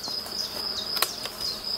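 Honeybees of an open black bee colony hum steadily at close range, a continuous insect drone with a few brief louder swells of buzzing and no voices.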